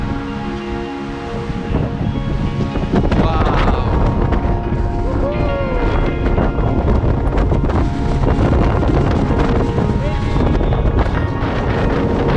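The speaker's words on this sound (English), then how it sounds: "It's pretty windy out." Strong wind on a hilltop outside Madrid roars against the microphone in a constant heavy buffeting for about twelve seconds, smothering everything else, with a voice faintly audible beneath it.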